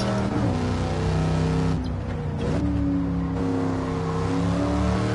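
Pontiac Firebird Trans Am engine held at full throttle in Gran Turismo 7 on the Nordschleife, a loud, steady high-revving drone with a brief dip mid-way before climbing again, with no voices.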